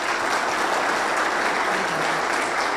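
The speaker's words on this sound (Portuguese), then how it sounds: "Eu queria pedir uma salva de palmas para a Carla." An audience applauds steadily at a lecture on politics and business, a dense, even wash of clapping throughout with no pauses.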